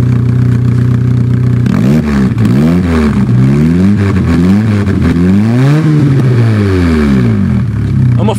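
A rally car's exhaust note, rising and falling through several loud revs with a rough, throaty drone, close to the tailpipe and continuous over the whole stretch.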